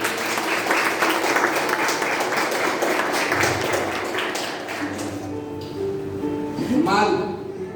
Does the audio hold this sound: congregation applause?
yes